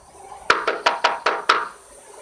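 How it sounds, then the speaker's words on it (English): Six sharp, evenly spaced knocks on a bedroom window at night, crisp and close, followed by quiet. "the knock at the bedroom window"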